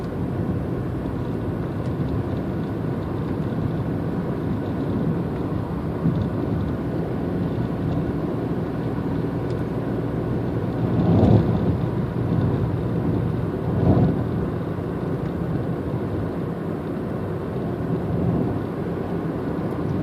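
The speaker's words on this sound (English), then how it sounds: "Probably going to get a lot of road noise and, well, just a lot of road noise." Steady road noise from a car driving along a hilly Georgia road on a spring day, a continuous low rumble with two brief louder swells midway, no talking.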